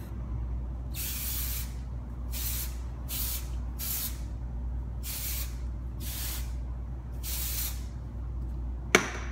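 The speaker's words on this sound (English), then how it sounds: "Really get in there and just spray it." Repeated short hissing bursts from a spray bottle of hair product, about eight sprays at uneven intervals over a low steady hum, then a sharp click.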